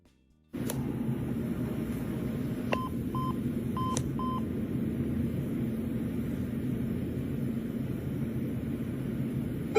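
DTMF telephone keypad tones beep in a short irregular sequence over a steady roar of crowd and hall noise at a vintage computer festival exhibit, where a picked-up phone dials a random answering machine.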